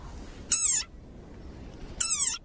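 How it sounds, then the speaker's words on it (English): Two short, high-pitched squeaks from a small desert rain frog, about a second and a half apart, each sharp and clear against quiet background. "Like this desert rain frog. Squeaking viral sensation"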